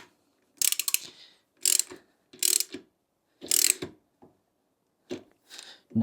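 Ratchet wrench tightening a part on a machine, with several short bursts of rapid clicking separated by pauses, close and fairly loud.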